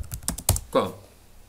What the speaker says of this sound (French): ou bien j'efface Yahoo et je tape google.com